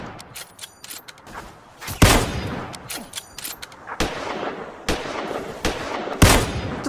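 Rifle gunfire in the PUBG video game: sharp single shots crack out at irregular intervals, some near and loud, others more distant, over a low ambient backdrop.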